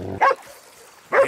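A dog in the video game Red Dead Redemption 2 gives two short, close barks a second apart, with a quiet gap between them.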